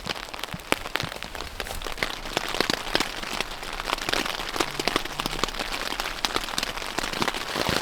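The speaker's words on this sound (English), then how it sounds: "As you can probably hear, the rain's pretty heavy now." Heavy rain drums on a tent during autumn camping in the Scottish Highlands, a dense, continuous patter with sharp individual drops cracking through close by.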